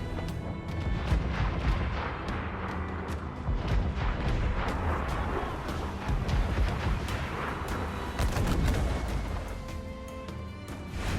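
Naval cannons on a ship fire at a fort in Assassin's Creed IV: Black Flag, heavy booms and crashes rolling continuously amid loud battle noise.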